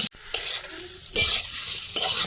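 Pressure-boiled potatoes tip into hot oil and are stir-fried, bursting into a sharp sizzle with a few spoon scrapes and pauses in between, close up and wordless.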